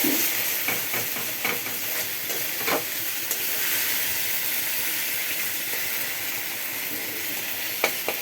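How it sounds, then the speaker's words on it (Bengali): Ginger, garlic and cumin paste frying in a little oil for yogurt chicken, a loud continuous hissing sizzle close up, with occasional spoon scrapes and stirring knocks, no talking. "জিরে বাটা আমি কিন্তু তেল একটু অল্প দিয়ে রান্না করি"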